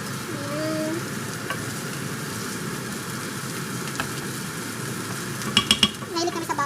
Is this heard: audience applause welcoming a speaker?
no